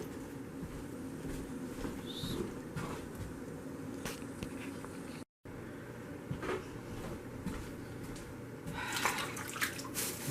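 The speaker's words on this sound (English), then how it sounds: "We're going to run it through at least a couple of sinks of water." Poke salad greens being swished and washed in a kitchen sink of water, with faint sloshing, dripping and splashes, soft and close, with a brief dropout midway.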